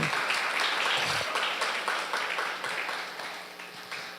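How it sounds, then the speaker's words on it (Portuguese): Audience applause at a child psychoanalysis lecture, a steady dense wash of clapping that slowly fades over a few seconds, with no one speaking. "Vamos receber com aplausos"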